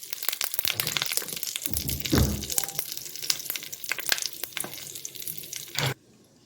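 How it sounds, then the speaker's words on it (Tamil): Mustard seeds crackle and splutter in hot oil in a South Indian kitchen pan, a busy sizzling patter with sharp pops throughout that cuts off abruptly at the end. "கடுகு போட்டு கடுகு நல்லா பொரியட்டும்"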